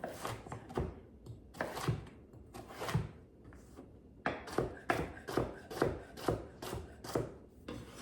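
Sweet potatoes being chopped into very small pieces with a knife on a cutting board: rapid rhythmic thuds in quick bursts with short pauses, close and fairly quiet.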